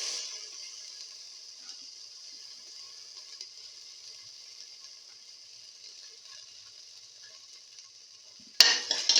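Ginger sizzles in a hot pan for a lentil, tomato and fenugreek pilaf, a steady hiss running almost alone, with a sudden louder clatter of stirring near the end.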